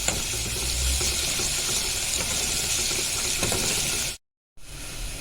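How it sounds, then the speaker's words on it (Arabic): Onion and a big spoon of garlic sizzling steadily in a spoon of ghee, a loud continuous frying hiss with faint stirring scrapes, cutting out briefly near the end. "حطيت ايه بصله، حطيت عليها معلقه سمنه ومعلقه تومه كبيره وهشوحهم"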